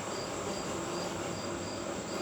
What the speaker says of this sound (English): that buzzing, humming sound